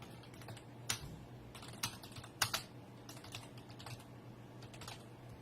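Quiet, sparse keystrokes on a computer keyboard as a note is typed, a few isolated clicks and a brief double tap, faint against a steady room hum, with no talking.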